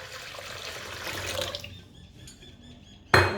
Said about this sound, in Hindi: 3 ग्लास पानी शामिल कर रही हूँ मैं